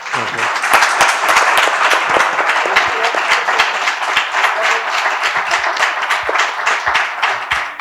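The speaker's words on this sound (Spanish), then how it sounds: "os pido un aplauso para ellos, por favor" An audience applauds Luz Arcas and Alberto Conejero at an event, with sharp individual claps standing out in sustained, lively clapping that lasts the whole stretch.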